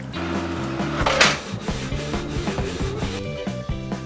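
Canon PIXMA TS3400 inkjet printer printing a borderless 13x18 cm photo, heard close as rhythmic mechanical whirring and stepping of the print head and paper feed, with a brief louder scrape near the start.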